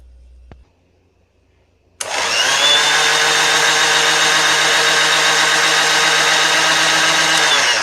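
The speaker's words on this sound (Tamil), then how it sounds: "இன்னொரு டைம் வந்து அரைச்சோன்னா வெண்ணெய் வந்துடும்" A mixer grinder churning curd into butter starts abruptly after a short quiet click, then settles into a loud, steady motor whine with sloshing underneath that continues without a break.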